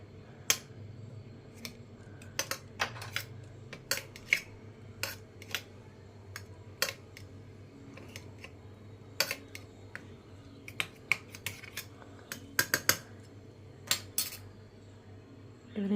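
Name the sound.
mixing fish with mustard oil and spice ingredients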